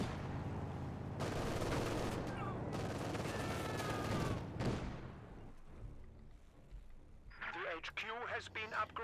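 A light machine gun in Company of Heroes 2 fires dense bursts mixed with other gunfire for about four seconds, then distant battle sounds continue while a voice talks over the game.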